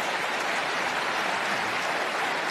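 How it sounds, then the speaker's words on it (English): Steady, dense applause from a large crowd at a shareholders' meeting, filling the space evenly at moderate loudness with no voices standing out. "No need to applaud"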